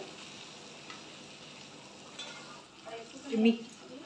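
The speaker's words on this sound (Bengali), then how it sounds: "কড়াইশুটিটা মিশিয়ে গেছে এখানে মশলার সাথে" Boiled green peas are stirred into spice masala in a pan for mutton keema ghugni, giving a faint sizzle with soft scraping that grows slightly louder toward the end, with some talking.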